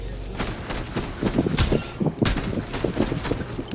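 Enemy gunfire in Fortnite crackles in dense, loud bursts of rapid shots with heavy low-end thumps, pausing briefly and resuming, close and continuous throughout.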